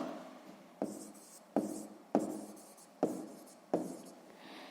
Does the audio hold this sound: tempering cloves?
no